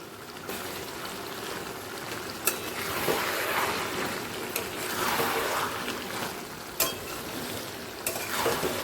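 Greens being stirred in a pan with Kashmiri red chili powder for a Bengali pui shak chorchori with fish head, a steady close sizzle under scraping strokes and a few sharp clinks of the spoon against the pan.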